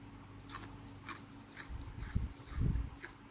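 Bites into crispy crackling skin give a few close, crunchy snaps and chewing crunches, building to louder crunches near the end, without talk.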